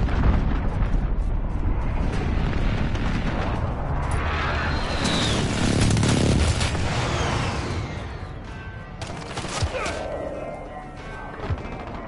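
A cruise missile explosion in the video game Modern Warfare, a loud sustained roaring blast with rumbling debris that fades gradually, followed by scattered smaller crashes and pops.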